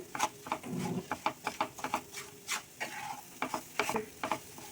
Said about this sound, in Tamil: நல்லா மிக்ஸ் பண்ணிகிட்டே இருங்க பேனில் வந்து ஒட்டாமல் வரணும்